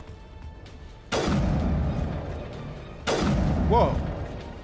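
Two heavy rocket explosions in Mass Effect Legendary Edition, a couple of seconds apart, each a sudden loud blast with a rumbling tail; a voice briefly exclaims after the second.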